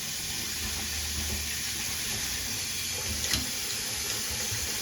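A kitchen tap runs steadily into a bowl while rice is rinsed, a constant close hiss of flowing water with a faint splash partway through and no talking.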